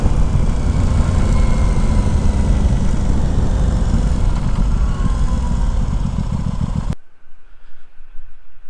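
A 2021 Aprilia Tuono 660 motorcycle's engine rumbles loud and low, heard close while idling after pulling over, then cuts off abruptly, leaving only faint outdoor ambience.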